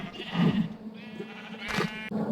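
A Minecraft sheep bleats in a short wavering call, repeated a couple of times against a low steady background hum.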